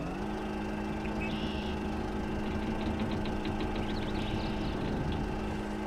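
In the video game Mudrunner, a truck's engine idles steadily while the winch is attached, producing a constant low, rumbling drone with a light mechanical knock and a few faint clicks on top.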